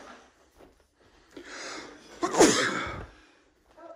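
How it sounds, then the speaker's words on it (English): A single loud sneeze close by, preceded by a brief inhale, with a short murmur of voice afterward. "he just sneezed."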